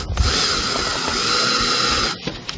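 A power driver runs a screw into a tie on an insulated concrete form block with a steady high whine lasting about two seconds, close and loud, then cuts off.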